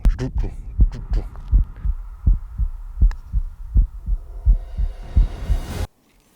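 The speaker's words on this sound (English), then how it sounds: "You ever play Tiger Woods when it starts like honing in and you got the heartbeat thing like pulsing?" Pulsing heartbeat effect from a Tiger Woods golf video game, a steady run of deep, loud thumps in quick even rhythm over a low hum, cutting off abruptly near the end.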